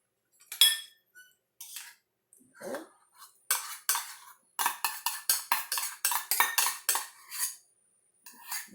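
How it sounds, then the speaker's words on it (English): Sour cream is stirred in a bowl with a utensil, giving intermittent scraping and clinking against the dish, close and fairly quiet, in short bursts. "we are going to mix the sour cream"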